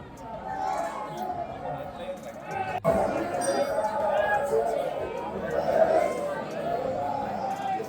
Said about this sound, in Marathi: गर्दी पाहता है, गर्दी गर्दी देख रहे हो.